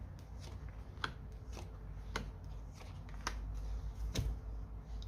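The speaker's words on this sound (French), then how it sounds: "Allez, on met nos 5 cartes pour voir la situation." Five tarot cards are laid down one at a time, each landing as a faint, crisp snap at an uneven pace in a quiet room.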